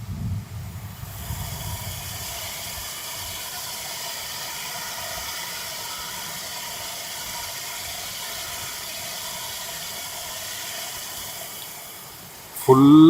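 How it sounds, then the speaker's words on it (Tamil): Water spilling over a check dam near the foothills outside Coimbatore and running down a stream, a constant broad rushing hiss at steady level with no break. "அழகா செக் டேம்ல இருந்து விழுந்து தண்ணி இந்த ஓட வழியா போகுது."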